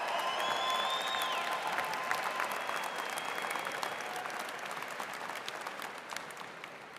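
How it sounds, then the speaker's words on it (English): Audience at a 2025 Michigan Ross business school commencement ceremony gives a sustained round of applause, a dense even wash of clapping with a few whoops early on that slowly tapers. "Big round of applause."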